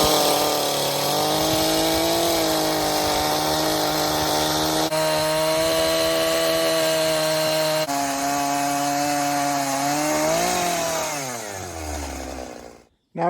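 A chainsaw mill rips a first milling cut lengthwise through a log, the engine roaring steadily at high revs close by with slight pitch shifts, then bogging down and dying away at the end of the cut.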